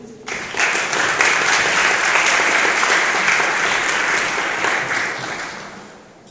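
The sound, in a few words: audience applause at a ceremony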